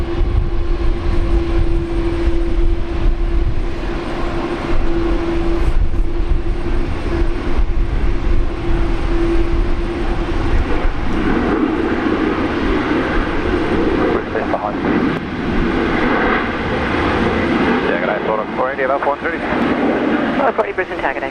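Engines of a Qantas airliner lining up on runway 19 left at Brisbane Airport, a loud continuous roar with a steady tonal whine that swells and shifts in its later part.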